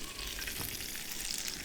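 Fish sizzles steadily in two pans on a kitchen stove, a close, continuous hiss and crackle with faint stirring and no talking.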